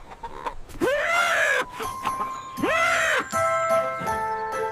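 A cartoon rooster crows twice, each call a rising, arching cry that carries a bright, sustained tone, loud and close. It sits in a playful farm-adventure setting where a small jingle follows.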